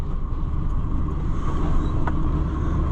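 A four-wheel-drive farm vehicle running with the diff lock engaged gives a loud steady engine rumble and drone, heard close and continuous with faint rattles, with no talking.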